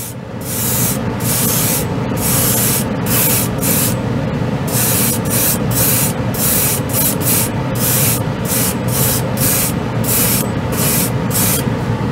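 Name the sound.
spray paint from a spray can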